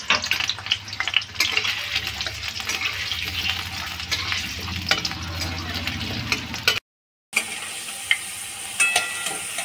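Two potatoes frying in mustard oil in a pan, a steady loud sizzle with scattered scraping and stirring knocks, a brief dead gap, then quieter sizzling with occasional sharp clicks.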